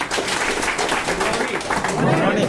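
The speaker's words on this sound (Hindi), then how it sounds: "प्लीज एक जोरदार ताली।" Applause from an audience at a DXN business seminar, dense clapping running steadily through the whole stretch with crowd noise and some voices mixed in.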